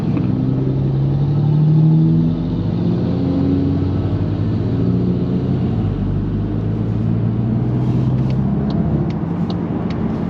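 A Volkswagen MK8 GTI is driven on the road, heard from inside as a steady low engine rumble with road noise, briefly swelling louder early on and then holding an even, moderate drone.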